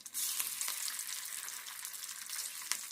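Pieces of egg white frying in a pan give a steady, bright sizzle that fills the whole stretch, with a few crackles and spatter pops breaking through, close and unaccompanied by voices.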